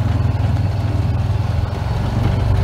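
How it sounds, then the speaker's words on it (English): A farm tractor works in a paddock during planting, its engine a steady low droning throb heard from a moderate distance, pulsing evenly and rising slightly toward the end, with no talking. "you can see the tractor working"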